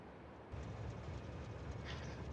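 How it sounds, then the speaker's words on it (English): A train rolling along its track in the video game Factorio, a steady low rumble that swells in loudness after a brief quieter start and then holds constant, with no voices. "we should just drive the train forward"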